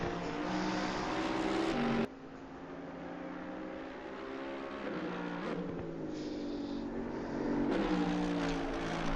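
Onboard a GT race car lapping the Zolder circuit in a GT Americas Pro/Am round: loud, continuous engine roar rising and falling through gear changes and corners, with a sharp shift near the start and sustained high-revving pulls throughout.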